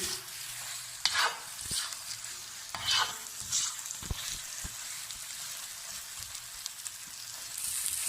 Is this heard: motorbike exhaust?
no